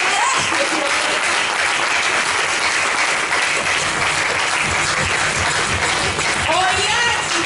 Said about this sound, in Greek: Τεράστιο χειροκρότημα.